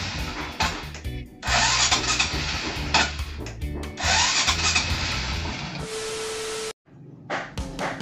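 A small engine with a spark plug problem is cranked with a push starter. Several bursts of whirring and sputtering are broken by short gaps, with a steady tone near the end before it cuts out. No one speaks.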